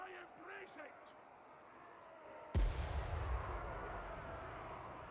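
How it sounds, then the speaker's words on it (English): A single heavy cannon blast from artillery in the strategy game Total War: Warhammer booms sharply midway and rumbles on, following quieter game sounds and tones. "Having 4 cannons seems pretty good."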